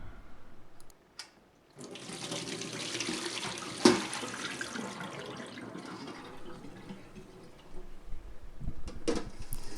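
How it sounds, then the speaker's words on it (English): Water is poured out of the stainless steel bowl of a DrinkWell 360 multi-pet drinking fountain, a steady splashing gush lasting several seconds with one louder splash midway, heard up close with no speech. "let's start off by dumping out the water that's currently in the bowl"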